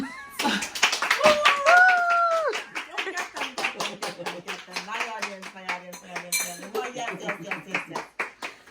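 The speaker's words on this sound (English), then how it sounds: "Everyone clap." Several family members clap at home, sharp individual claps in a quick, uneven rhythm close by, while a voice with rising, drawn-out tones sounds over the start and people talk through the clapping.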